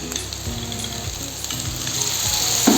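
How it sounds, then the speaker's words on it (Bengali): Water poured into frying spices for a Bengali boal fish curry bursts into a loud, steady sizzle, with soft stirring scrapes recurring through it and a brief spike near the end. "বাটিটা দিয়ে অল্প পরিমাণ জল দিয়ে দিচ্ছি।"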